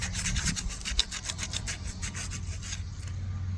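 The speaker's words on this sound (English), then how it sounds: "So I just sanded it off to make it kind of sort of smooth" Steady sanding on a homemade wooden walking stick, a continuous close rasping rub with rhythmic back-and-forth strokes, fairly loud and with no talking.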